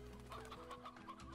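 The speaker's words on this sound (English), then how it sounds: "So many chickens. Just so many chickens." Chickens clucking in the video game Slime Rancher, a busy flock of repeated short clucks and squawks close by, with a steady low hum running underneath and no talking.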